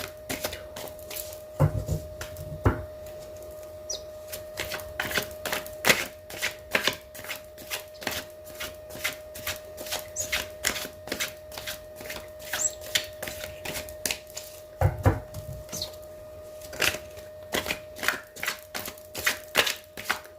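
Tarot cards are shuffled and drawn, giving dense papery flicks and riffles in irregular bursts, close and crisp, with brief soft thumps in between.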